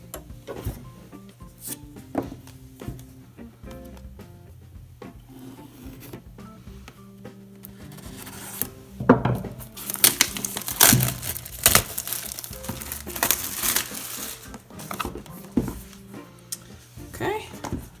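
A 2018 iPad 9.7-inch 128GB space gray being unboxed: crinkling, scraping and light tapping of packaging grows busier midway, close and moderately loud, with a few soft knocks.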